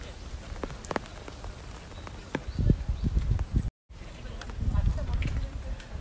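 Rain falling in Inokashira park, a soft steady patter of drops on surfaces with scattered louder splashes and footsteps, brief dropout midway, light ambient hiss throughout.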